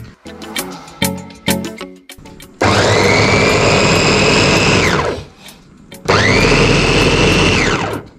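Electric chopper cutting large pieces of onion, two long whirring bursts of the motor, loud and close, after a few short clattering pulses, with no talking.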